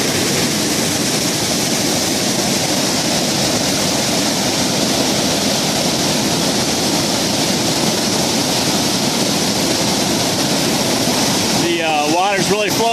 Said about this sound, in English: This is just a waterfall off the trail.